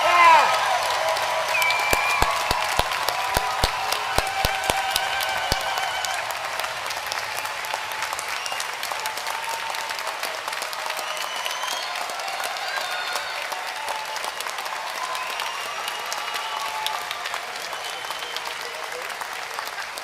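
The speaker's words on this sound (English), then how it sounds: "Another round of applause for all of our graduates." A large commencement audience applauds graduates at a university public health winter ceremony, with sustained dense clapping and a few sharp individual claps early on, staying steady and fairly loud throughout with crowd murmur and some cheering.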